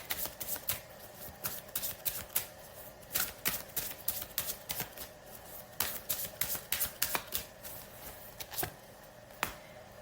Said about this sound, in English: I'll draw one more card from this deck.